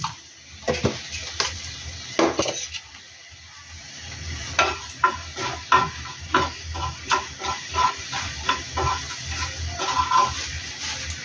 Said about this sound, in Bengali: 2 চামচ 5 ফোড়ন আমি এর মধ্যে দিয়ে এটা ভেজে ফেলছি